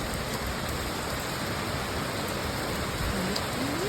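Steady rain falling outdoors at a roadside eatery in Rayong, Thailand, a dense constant hiss of drops with no pauses, close and even in loudness, with no talking.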